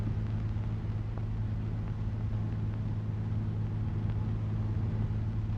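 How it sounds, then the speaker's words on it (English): A 1937 Lincoln Zephyr with a V12 engine drives along, its steady low engine rumble running continuously and fairly loud, with no voices. "Here's where this V12 engine shines."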